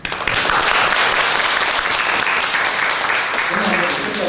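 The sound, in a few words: church congregation applause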